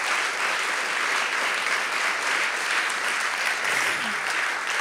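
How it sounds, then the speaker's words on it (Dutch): Warm applause from an audience at a Dutch talk event, a dense, steady wash of clapping that carries on evenly throughout with no voices over it. "Mag ik een hartelijk applaus?"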